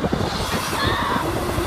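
Class 158 passenger train passing Whitemoor Drove level crossing in Cambridgeshire, a loud close rumble and wheel clatter with a rising horn-like tone, sustained throughout.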